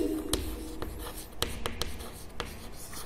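Marker or chalk strokes on a board during an accounting lecture: a series of sharp taps and short scratching strokes in an irregular rhythm, close and moderately loud, with no talk over them.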